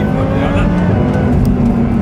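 An 800hp supercharged MTM Audi R8 is floored from a stop on the autobahn, its engine roaring loud and close with no letup as it pulls hard.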